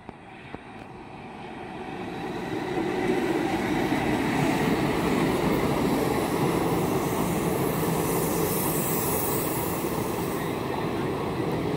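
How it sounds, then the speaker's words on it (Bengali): Howrah–Malda Town Intercity Express hauled by a WP4 locomotive rumbles past at slow speed on a bypass line, the rolling wheel and carriage noise swelling over the first few seconds and then holding loud and steady. "WP4 লোকোমোটিভ নিয়ে আসছে Howrah Malda town intercity express."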